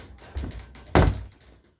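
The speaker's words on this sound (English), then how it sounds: "Who closed the door, bro?" A door closes with a single loud, dull thunk after a softer bump, heard close in an otherwise quiet room.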